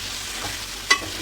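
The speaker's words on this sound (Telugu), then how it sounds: "450 గ్రాముల చికెన్ వేస్తున్నాను" 450 grams of marinated chicken hits oil with golden-brown fried onions, giving a steady close frying hiss with one sharp click near the end.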